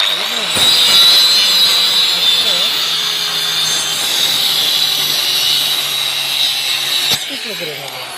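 A power machine cuts through marked pieces of wood with a steady, loud, high whine that runs unbroken for several seconds before easing off near the end.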